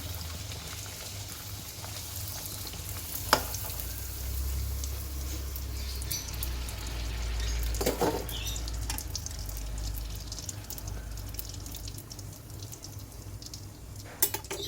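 Small pooris deep-frying in hot oil give a steady low bubbling sizzle throughout, with a few sharp clicks or pops near the start, middle and end, and no voices.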